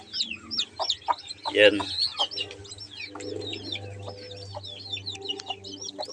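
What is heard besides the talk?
chicks peeping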